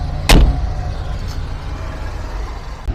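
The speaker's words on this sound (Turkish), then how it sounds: "Kapatalım şu kapıyı." A car door on a 2010 model car slams shut once, a sharp, loud single thump near the start, followed by a steady low idling rumble.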